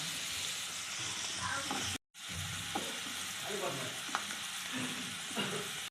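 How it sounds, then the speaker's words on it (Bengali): Capsicum and beans stir-fry in a hot pan for a chicken salad, making a continuous close sizzle with soft stirring scrapes and a brief gap near the middle. No one speaks. "ক্যাপসিকাম বিনসটা একটু হালকা নেড়ে চেড়ে এরপর মাশরুমটা দিয়ে দেবো"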